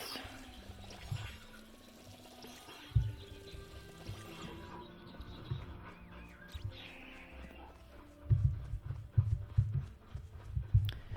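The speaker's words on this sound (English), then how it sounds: "So I'm just gonna quickly water everything." Water pours and splashes while plants in a garden plot are watered, a steady outdoor trickle with louder bursts of splashing toward the end and faint bird calls in the background.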